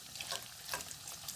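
Pork cracklins frying down in a pan, rendering out their fat: a steady soft sizzle and crackle with faint bubbling pops, close and fairly quiet, no talking.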